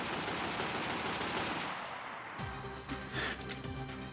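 Rapid automatic AK rifle fire in the video game Pwn Adventure 3, a loud dense burst of shots lasting a couple of seconds, then a few sharper single reports with ringing tails, with no talk.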